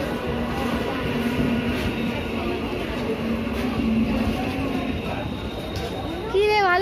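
A train pulls into a station with a continuous loud rumble and mechanical roar, nearby and steady, and a rising tonal whine near the end.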